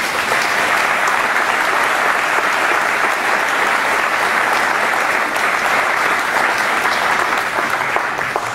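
A seated audience claps steadily and warmly to welcome a retiring employee at a sheriff's office recognition event, a dense, even wash of applause lasting several seconds with no break.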